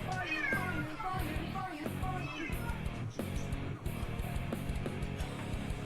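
A cat meows repeatedly during a tabletop role-playing game session, several drawn-out mews fairly clear under and between ongoing background talk.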